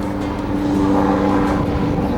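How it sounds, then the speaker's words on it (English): A steady low droning engine hum of a helicopter flying high overhead, holding an even level throughout with no talking. "There's a helicopter"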